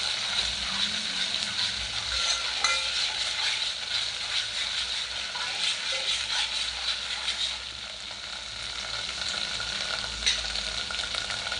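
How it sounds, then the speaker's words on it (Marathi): Onions sizzle in a pan with paste stirred through them for a Konkani-style fish curry, a continuous close frying hiss with scraping spoon strokes running throughout. "व्यवस्थित मिक्स करून घ्यायचं आपल्याला कांद्यामध्ये"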